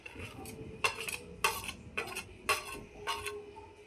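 Utensils scrape and clink against a bowl while three flours are mixed with red chili and salt, giving a run of sharp rhythmic taps and scrapes close up, with no talking.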